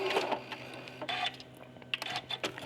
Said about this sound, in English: I'm going to remember to backstitch over the seam allowance